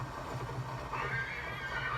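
A horse neighs and whinnies in a video game while being ridden, a steady, fairly loud call over a low game hum, with faint hoof-like sounds beneath.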